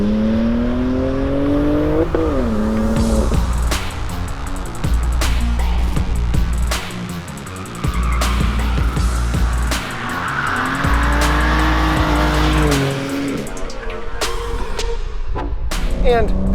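A manual-transmission 2022 BMW M3 in base trim laps the 1.5-mile Champion Motor Speedway at M1 Concourse, its engine droning loud and steady with revs climbing and dropping through gear changes, mixed with tire noise and a voice talking over it.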